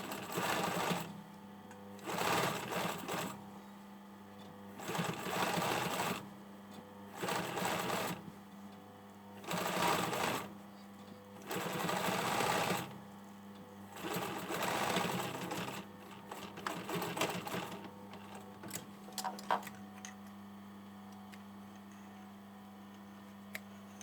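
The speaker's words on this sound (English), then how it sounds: "I'm lining up the existing stitching with the edge of this foot" A sewing machine stitches the hem of a hoodie sleeve cuff, its needle whirring in several steady bursts separated by brief pauses, close and clear with no talking.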